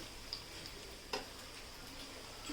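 Coriander vadis shallow-frying on low gas, a soft, steady sizzle with a couple of faint ticks and taps, quiet and close with no voices.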